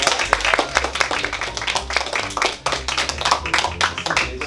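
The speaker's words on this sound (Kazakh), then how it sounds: "Шапалақ." A group of friends claps hands in a lively burst of sharp, uneven claps, loud and near, with a brief dip midway before the clapping carries on.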